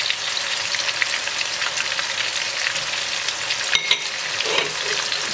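Sliced onion with ginger-garlic paste fries on a high flame, a steady, dense sizzle with a brief stir or clatter near the end, close and loud throughout.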